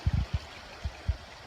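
Steady rushing of a waterfall stream swollen by a recent flash flood along a mountain hiking trail, with a few dull low thumps over the continuous wash of water.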